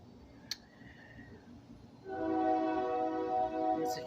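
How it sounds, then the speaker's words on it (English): Train passing at a distance, a faint low rumble that gives way to a sustained, chord-like horn blast in the second half, fairly quiet overall with a couple of sharp clicks. "it's a train, sorry."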